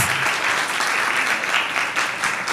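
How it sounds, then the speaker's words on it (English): Audience applause at a Character Day workshop, a continuous, even patter of many hands clapping, moderately loud and sustained for the whole moment. "let's give Jimmy another round of applause"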